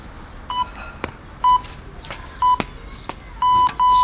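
A workout countdown timer for at-home racket skills drills gives a series of short, loud electronic beeps, with a few sharp clicks between them and no talk.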